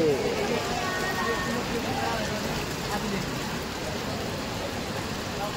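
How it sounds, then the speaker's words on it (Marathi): Steady, dense heavy rain hiss in Surat fills the stretch, continuous and fairly loud, with a faint rumble beneath it. "सुरतमध्ये पाऊस जास्तच आहे."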